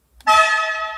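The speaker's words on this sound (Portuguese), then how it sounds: "E esse, obviamente, é o muito elegante ronco da buzina da F512M." A Ferrari F512M sounds its horn: one short, loud, close blast with a bright, rich tone that starts sharply and holds for under a second.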